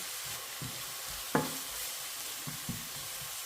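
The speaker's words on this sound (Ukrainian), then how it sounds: "Так, ще промішаю. І одну-дві хвилиночки буду смажити." Steady sizzling of cabbage patty mixture frying in a pan, with a spoon scraping and knocking against it now and then.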